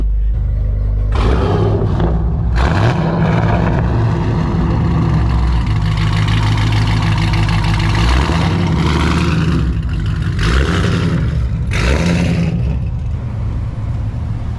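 A deep engine rumbles steadily at close range, with repeated revving surges throughout, like a loud sports car exhaust being blipped again and again.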